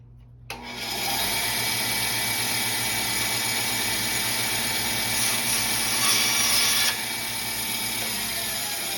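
A bandsaw cutting through a part in a home garage, a loud steady motor whine with a continuous blade hum that starts abruptly and runs without pause, with no talking.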